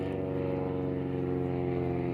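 An airplane drones overhead in a steady, sustained engine hum that stays loud and even throughout, with no voices.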